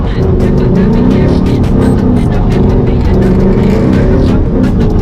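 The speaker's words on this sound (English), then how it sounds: "So we're gonna try to power over. Throttle, keep it going." A drifting car's engine roars at sustained full throttle through donuts, loud and continuous for the whole stretch, with the wavering pitch of tyres sliding and revs held high, no talking.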